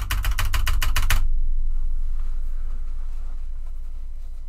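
Rapid, loud clicking of a mechanical keyboard with Cherry MX Red switches, close up, a quick dense run of keystrokes lasting about a second and then stopping, leaving only a low steady hum.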